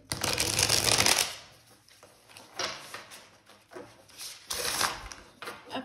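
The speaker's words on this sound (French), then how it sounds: "Alors, on va bien mélanger." Tarot cards being shuffled by hand give a long riffling flutter up close, followed by several shorter bursts of cards sliding and slapping together.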